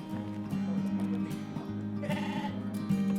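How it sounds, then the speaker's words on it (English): Sheep in Iceland bleat repeatedly, several wavering calls overlapping close by, with a rough, nasal tone over a low background rumble. "round up their sheep, bringing them back to their farms"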